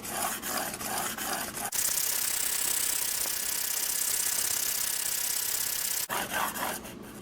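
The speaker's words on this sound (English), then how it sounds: "I'm going to sharpen on one side until I get a burr" Grim Reaper Hades Pro knife being sharpened on one side: rhythmic rasping strokes at first, then a long continuous loud grinding rush, followed by a few short rasping strokes again, close and without talk.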